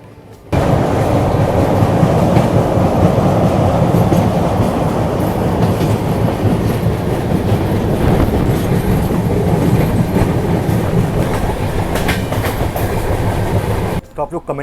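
A train clatters past close by, heard from aboard the Rajdhani Express travelling to Odisha, with steady loud rumble and clickety-clack of wheels over rails lasting throughout, plus faint squeals.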